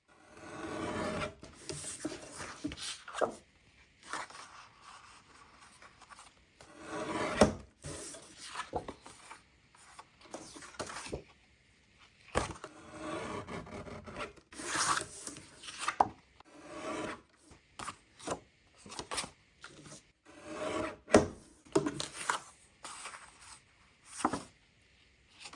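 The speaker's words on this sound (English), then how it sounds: "So I'll first cut off the white edge and then I'll cut them down" Paper is cut up by hand, first trimming off white edges and then slicing it into random pieces. Close, dry scraping and snipping come in irregular bursts with short quiet gaps, spread over about twenty-five seconds.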